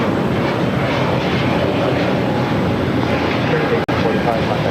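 A Delta Airbus A350 jet at LAX, bound for Atlanta on runway 25 right, gives a steady, loud broadband engine roar that fills the whole stretch, close by and continuous with a brief dropout near the end.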